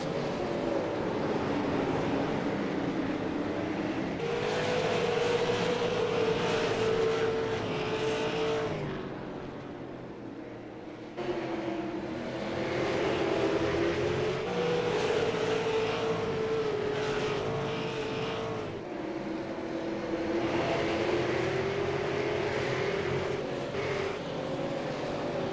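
Super Late Model race cars roar around the Southern National track in a loud, continuous pack, engine pitch rising and falling as they pass in repeated waves over a steady broadband rumble.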